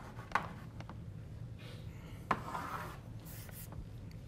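Chalk or marker scratching and tapping on a board during a physics lecture, with a couple of sharp taps and soft rubbing strokes, close and fairly quiet with no talking.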